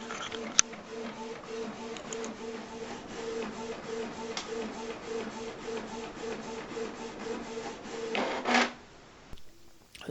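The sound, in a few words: inkjet printer printing on heat transfer paper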